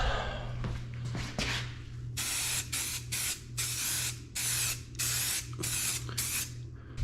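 A spray paint can hisses in a rapid series of short, loud bursts while moving around a cylinder, the evenly spaced blasts separated by brief pauses over a faint low hum.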